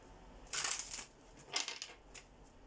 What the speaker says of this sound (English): So you may not understand why I'm even shuffling these cards again.